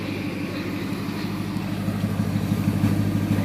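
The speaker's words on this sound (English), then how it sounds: "The exhaust note here." A 1987 Porsche 928 S4 sits idling with its engine humming along in a steady, smooth low rumble, the exhaust note growing slightly fuller toward the end.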